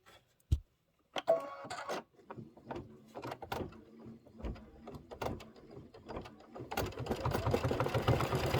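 An embroidery machine stitches the window pocket tack-down line on a Kimberbell Cup of Cheer house block, first in short mechanical bursts and then in a steady, rapid whirring run of stitches close by.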